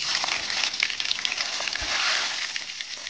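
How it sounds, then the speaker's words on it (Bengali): Cumin, dried red chillies, whole garam masala and bay leaves sizzle vigorously in hot oil for a Bengali chire murighonto, a dense, steady crackling hiss that stays loud throughout with no talking. "তেল গরম হয়ে গেছে বন্ধুরা। আমি এরপরে জিরে, শুকনো লঙ্কা, গোটা গরম মশলা, তেজপাতা আমি সব একসঙ্গে দিয়ে দিচ্ছি।"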